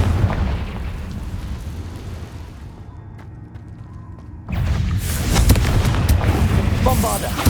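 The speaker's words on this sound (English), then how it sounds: "Confringo!" A Confringo fire spell explodes in Hogwarts Legacy, a rumbling low blast that fades into a quieter stretch before a second loud, roaring burst with crackling debris, under faint game voices.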